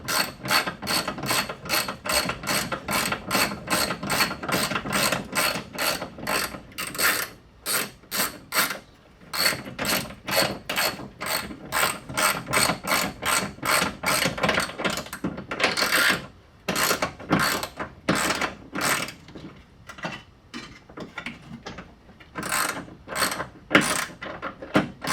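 A ratchet wrench with Mastercraft sockets tightens fittings while a new radiator goes into a 1984 Toyota Celica RA64, fast close clicking in long bursts with brief pauses between runs.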